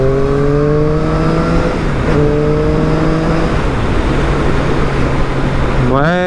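An A2-licence restricted motorcycle accelerates through its gears, its engine note rising in pitch, dropping at each shift, then climbing again. A voice talks over the engine.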